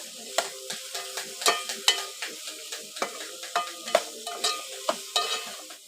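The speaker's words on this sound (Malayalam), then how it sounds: "ഒന്ന് നല്ല ഇളക്കി കൊടുക്കാം." Food being stirred in a frying pan, with a steady sizzle under repeated scraping strokes of a utensil in a fairly regular rhythm, close up, and no talking.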